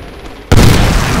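Medal of Honor: Warfighter multiplayer combat opens quietly, then a heavy blast erupts halfway through and carries into a sustained, loud rumbling roar that fills the rest of the moment.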